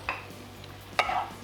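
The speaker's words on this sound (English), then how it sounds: "And then we're just gonna stir this around, mix it up" Rice with coconut aminos being stirred in a pan: two short scraping strokes of a utensil against the pan, about a second apart, over a faint quiet sizzle.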